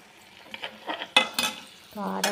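Onions and chili powder stirred in a frying pan, a few close scraping strokes of a spoon against the metal over a light sizzle, followed by a short voiced sound at the end.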